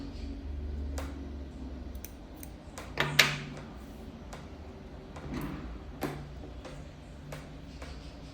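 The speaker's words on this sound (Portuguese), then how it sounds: "agora é só cortar o fio e arrematar" Scissors snip through crochet yarn at the end of a crocheted bag, one quick quiet cut against faint room noise with soft handling sounds around it.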